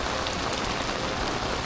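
Rain falls steadily in a Korean alley, a dense, even hiss of drops spattering on surfaces, close and continuous with no voices.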